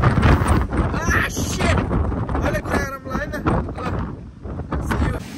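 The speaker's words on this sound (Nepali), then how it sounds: "बाहिर हावा चलेर" Strong wind gusts through the Jomsom bazaar outdoors, a loud broadband rush buffeting the microphone and swelling and easing across the whole stretch, with voices faintly mixed in.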